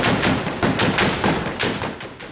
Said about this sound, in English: The heavier weapons fire a barrage at the insurgents.